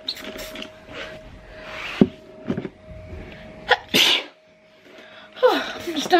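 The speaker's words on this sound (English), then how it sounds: "Stuff is making me sneeze." A couple of sharp, sudden sneezes burst out close by, with quiet rustling and breathing between them.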